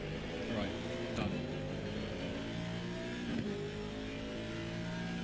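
Onboard engine roar of a race car in a racing video game during a 12-hour endurance race at Imola: a steady, loud engine drone with rising revs, a couple of quick gear-change dips and faint tire noise throughout.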